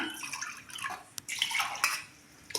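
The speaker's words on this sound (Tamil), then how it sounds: "பாருங்கள், உங்களுக்கு எவ்வளோ தண்ணி வேணுமோ அந்தளவுக்கு ஊற்றிக்கிங்க." Water poured into a pot while making mango curry, splashing and gurgling in uneven bursts with brief pauses between pours, close and fairly loud, no talking.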